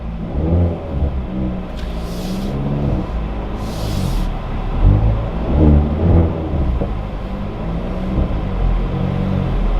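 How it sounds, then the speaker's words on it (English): A Hyundai Veloster turbo engine accelerates on a test drive. The close, loud rumbling drone climbs in pitch as the revs build. Two brief hissy bursts come through near the start, and no one speaks. "I'm pushing the gas right now, the power. Turbo is kicking in a little bit."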